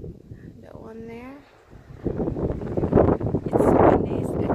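Wind blows hard outdoors, buffeting the microphone in loud rough gusts after a short spoken phrase at the start.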